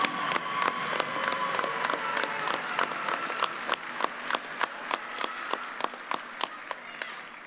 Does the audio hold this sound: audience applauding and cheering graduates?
yes